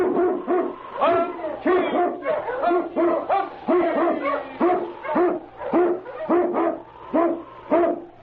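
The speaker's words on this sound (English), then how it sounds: "King, the swiftest, strongest of Eskimo lead dogs, blazes the trail through storm and snow" King, an Eskimo lead sled dog in an old-time radio adventure, barks steadily and loudly in repeated bow-wow bursts at a quick, even rhythm, close up with no voices over it.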